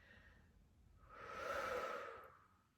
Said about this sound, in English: sweeping exhales.